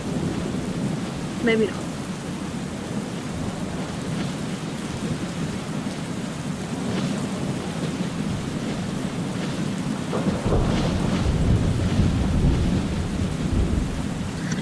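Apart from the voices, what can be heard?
thunder and lightning storm in a video game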